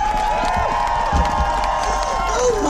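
A protest crowd on Downing Street, London, roars with cheering and applause, loud and sustained throughout, with scattered shouts mixed into the din.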